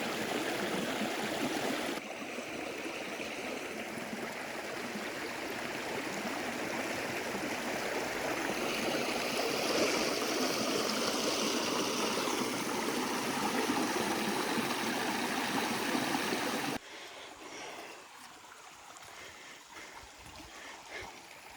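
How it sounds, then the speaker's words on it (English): Pickle Creek in Hawn State Park rushes over small waterfalls in a steady, close wash of flowing water that holds level for most of the time, then drops abruptly to a softer trickle near the end. "waterfalls here."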